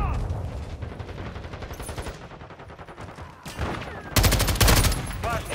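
Bursts of video game gunfire from a Modern Warfare 2 match, rapid automatic fire building to a loud, dense volley near the end, with no one talking.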